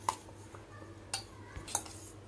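A spoon mixing grated carrot pickle with garlic in a bowl, giving a few soft, sparse clinks and scrapes close by in a quiet room.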